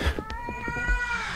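A cat meows in the indie horror game Erie, one drawn-out, wavering call held over the whole moment, fairly close and clear against a low rumbling ambience.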